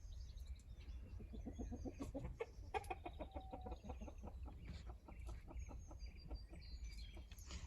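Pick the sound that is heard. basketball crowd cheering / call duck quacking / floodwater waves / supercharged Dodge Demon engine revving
call duck quacking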